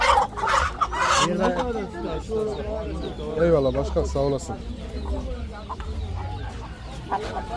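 Chickens and roosters clucking and cooing nearby at a poultry and bird market in Adana, Turkey, while people talk over them, with a noisy, crowded background.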